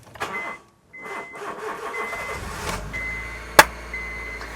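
A Honda EP3 Civic Type R-era Type S hatchback cranks and fires after sitting on a driveway, followed by a steady close idle with a brief sharp click partway through.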